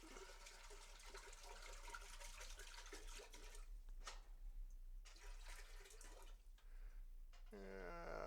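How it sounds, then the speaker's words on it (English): Water poured from a container into a pot while making a one-gallon batch of lime wine, a steady splashing pour running several seconds, close and fairly loud, with a clatter near the end. "Let's go ahead and pour in about half of our water"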